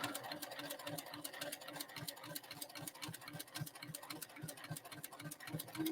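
A sewing machine fitted with a walking foot stitches quilt fabric, its needle thumping in a steady, fast mechanical rhythm close by without pause.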